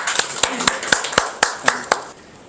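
Several sharp hand claps in a loose, even rhythm, close and loud, forming brief applause from an audience.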